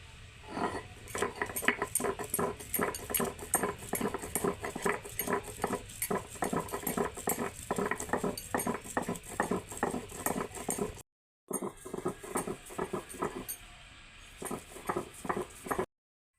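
Squeezed bottle gourd leaves are ground into a paste with rhythmic, close scraping and knocking strokes in a steady beat that pauses briefly before resuming.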